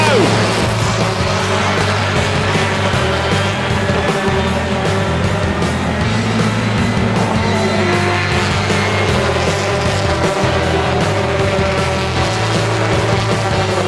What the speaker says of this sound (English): British Touring Car Championship, and it is go!